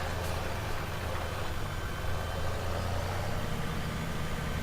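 Tractor engine idling in Farming Simulator 17, a steady low rumble with a constant hum that stays even and unbroken throughout, alone with no talk.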